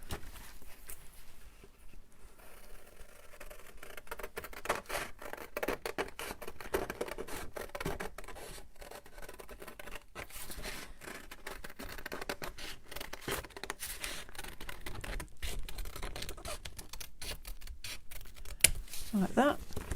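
Scissors snip through paper while cutting around a drawn semicircular shape, a steady run of close, crisp cuts with a person talking over them.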